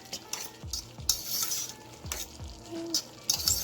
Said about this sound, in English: it doesn't take long for the garlic and those peppers to cook in there